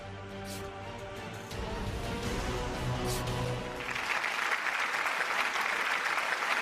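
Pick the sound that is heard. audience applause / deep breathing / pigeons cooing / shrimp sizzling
audience applause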